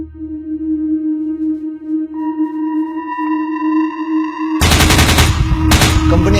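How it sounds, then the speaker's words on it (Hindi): Medium machine gun fire from a company headquarters position during an engagement with militants, a loud dense burst of rapid shots erupting after a steady ringing tone and carrying on to the end. "कंपनी हेडक्वार्टर ने एमएमजी फायरिंग किया।"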